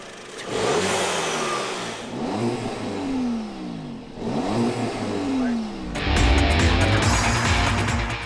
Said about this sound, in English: A 2-liter engine shoots this little machine forward in no time